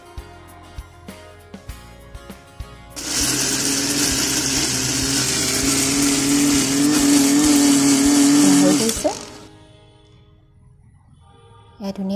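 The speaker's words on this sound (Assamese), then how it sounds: "এতিয়া আমি মিক্সিত পিচি ল'ম।" A kitchen mixer grinder whirs loudly and steadily for about six seconds as it grinds tomato, ginger, garlic and chilli, then winds down. A few sharp clicks come before it and another sound starts just after.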